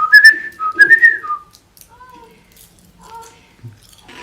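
A person whistles a short tune, a few clear melodic phrases that are loud at first, then softer, fading notes with gaps between them.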